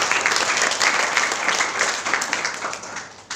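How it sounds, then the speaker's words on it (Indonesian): A church congregation applauds together, steady brisk clapping from many hands filling the room throughout, swelling slightly with a sharper burst near the close. "Boleh berikan tepuk tangan bagi Tuhan."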